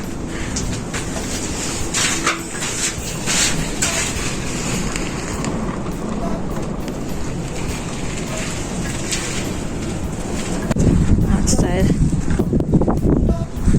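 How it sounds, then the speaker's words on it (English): Steady wind rushes and buffets outdoors, gusting louder toward the end, with a person speaking briefly over it. "It's windy."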